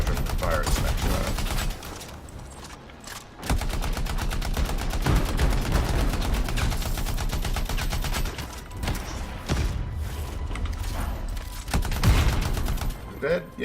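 Gunfire in the video game Anthem, rapid dense bursts of shots that run almost continuously with a few short pauses, loud and mixed with speech.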